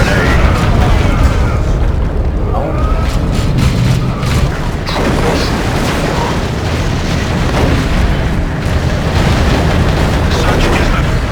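Dense weapons fire and explosions from the Warhammer 40K Dawn of War II Chaos Rising strategy game, a continuous loud barrage of booms and bursts with a few sharp blasts, voices speaking over the battle.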